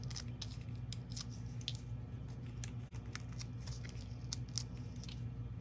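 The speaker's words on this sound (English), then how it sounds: "There's lots of paper to get taken off here." Backing paper peeled off dimensional adhesive foam pieces for a Paper Pumpkin craft kit, a series of quiet crisp rips and crinkles up close, with one brief soft thump midway.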